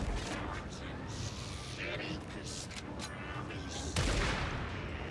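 Gunfire in a deer-hunting video game, dense crackling shots and a sharp report near the end, heard under continuous talking.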